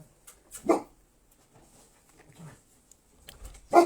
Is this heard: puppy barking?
yes